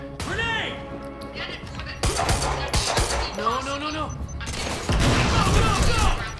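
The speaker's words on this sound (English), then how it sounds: "Close quarters, machine gun, baby." Close-quarters machine gun fire in Quantum Break, loud rattling bursts mixed with impacts and crashes while a player talks over the action.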